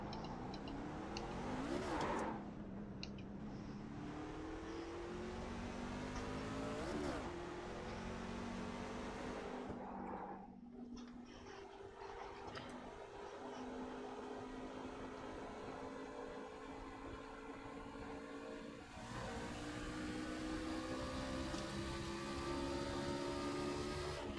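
A truck engine in American Truck Simulator drones and revs, its pitch climbing and dropping as gears shift several times, continuous and fairly loud with no speech.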